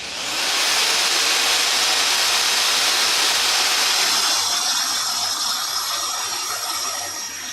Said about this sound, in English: Now time to drill them down.